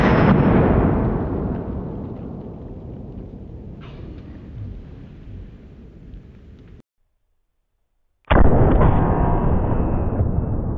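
A single heavy gunshot from a 45-70 derringer pocket pistol fired at a steel target, with a loud close blast that decays slowly over several seconds, a short silent gap, then another loud broadband burst.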